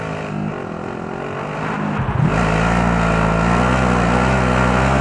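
A car engine in the Warzone video game idles, then revs up sharply around midway into a loud, sustained droning hum as the vehicle pulls away, close and steady.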